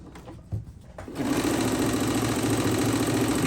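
A Singer sewing machine stitching two pieces of fabric starts up after a quiet moment and then runs steadily, its loud, fast mechanical chatter continuing alone to the end.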